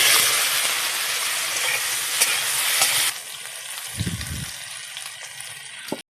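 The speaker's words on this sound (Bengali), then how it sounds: "করলাটা একটু ভেজে নিব" Bright sizzling of bitter gourd with turmeric frying in hot mustard oil in a wok, loud at first, then quieter after a few seconds with a brief low thump, ending suddenly.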